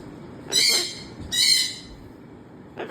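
A cockatoo lets out two loud, harsh screeching calls about a second apart, with quiet pauses before a brief third squawk starts at the end.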